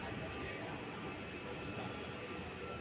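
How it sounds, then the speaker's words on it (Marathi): A Mumbai Metro train runs on the elevated line along the Western Express Highway toward Andheri, heard from inside the carriage as a steady, faint low rumble with no talking. "अभी थोड़ी समय में ये मेट्रो ट्रेन डिंडोसी स्टेशन पर रुकेगी"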